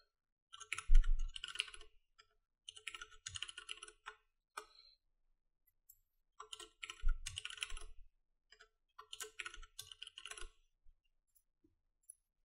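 Someone types a username and password on a computer keyboard, with two close, clear bursts of rapid key clicks separated by pauses and a few scattered single taps.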